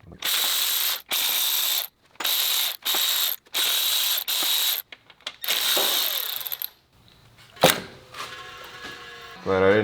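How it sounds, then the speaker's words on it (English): A ratchet wrench removes 10 mm bolts from the transmission pan of a 1991 Firebird, giving sharp, rapid clicking bursts in a stop-start rhythm close by, followed by clanks as the tool is set down. "now I take off 800 10 mil bolts and get covered in oil."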